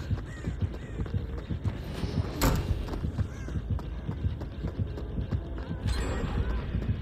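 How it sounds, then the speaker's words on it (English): The Dead by Daylight killer-proximity heartbeat, a steady low thumping pulse repeating under game ambience, with brief sharper bursts of noise cutting in now and then. "I'm getting a heartbeat"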